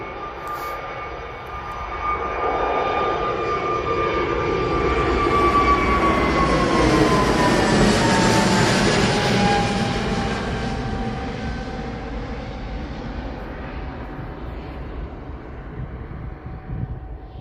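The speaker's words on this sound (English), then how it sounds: "So this one EasyJet, and this is the Zurich flight." An EasyJet airliner on the Zurich flight passes at Manchester Airport, its engine roar swelling from a distance to a loud peak midway, then fading slowly as the whine tapers off, with no voices over it.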